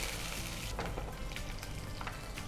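Gandhari chillies frying in a hot pan with oil, a steady close sizzle and crackle with brief stirring scrapes, no voices.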